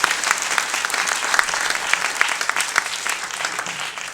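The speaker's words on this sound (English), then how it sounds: "Let's give a round of applause" An audience at a film festival screening Q&A applauds steadily, dense clapping filling the room with no voices over it.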